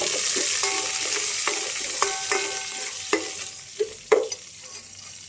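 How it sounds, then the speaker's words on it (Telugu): Onions with curry leaves fry in a pan for a chicken fry, a bright steady sizzle with regular clinks and scrapes of a spatula stirring, close and without talk. "బాగా వేగనిద్దాం."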